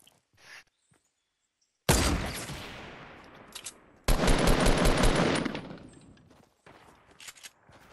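Automatic gunfire in Fortnite: two long, loud bursts of rapid rattling shots, the first fading out and the second holding steady, with near silence and a few faint taps before, between and after.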